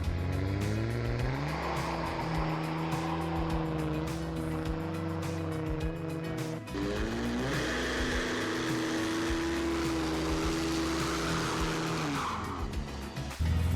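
A 2005 Cummins diesel pickup with a straight-pipe exhaust does a burnout: the engine revs hard and climbs in pitch with tire squeal, drops briefly, then surges again, loud and close throughout.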